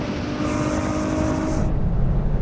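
Ferrari V12 car in a drag race against a BMW M8 and Nissan GT-R, a loud steady engine roar with a rising high whine that cuts off partway, continuous and close throughout.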